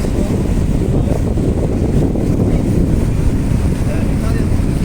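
Steady low rumble of a boat moving on the Nile, with wind buffeting the microphone throughout and no clear voices.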